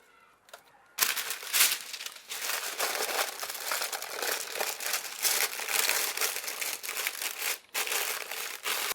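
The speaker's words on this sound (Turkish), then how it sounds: "Şöyle bir yağlı kağıtla kapadıktan sonra üstünü de alüminyum folyo ile kapatıyorum arkadaşlar." Baking paper and aluminum foil crinkle and rustle loudly and continuously as they are pressed over a tray of potatoes with garlic, close up with no talking.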